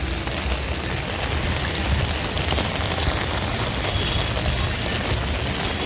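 Heavy rain pours onto a flooded street outside a housing society in Ahmedabad, making a dense, loud, unbroken hiss and patter with no pauses.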